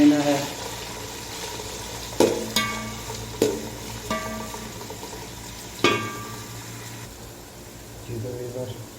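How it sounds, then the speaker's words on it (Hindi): Onions frying with cumin in a pan for a Saudi Arabian soup, a steady sizzle broken by several sharp clanks of a spoon stirring, with a voice talking over it. "प्याज को हमें अच्छी तरह से भून लेना है।"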